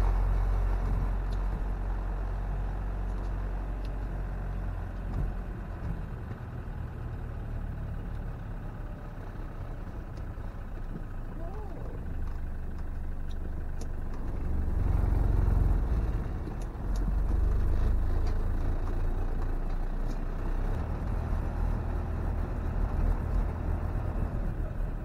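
A camper van drives on a cold engine, a low steady motor rumble with road noise that swells and eases a little as it moves along.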